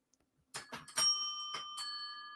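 A bright bell is rung several times in quick succession, each ring leaving a sustained metallic tone. The rings are clear and close, with no voices.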